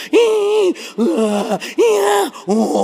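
A voice imitates snoring with four loud, drawn-out throaty groans in a steady rhythm, close up and dominant.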